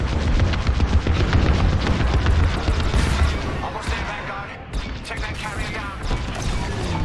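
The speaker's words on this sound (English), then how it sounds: "There are rockets shooting at me." Rockets firing at a starfighter in the Star Wars Squadrons space combat game, a loud continuous barrage of booming blasts and roaring engine rumble that eases slightly toward the end.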